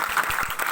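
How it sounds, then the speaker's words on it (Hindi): Applause from an audience at a management college event, a short burst of steady clapping filling the room at moderate loudness. "एक बार इनके लिए जोर से ताली बजाइए आप लोग"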